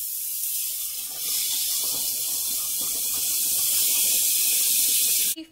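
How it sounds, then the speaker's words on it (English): A loud, sustained hiss as boiling water is poured into a hot pan of Mexican rice, rising after a second and steady until an abrupt stop. "that's when you pour your water that you've been boiling this entire time."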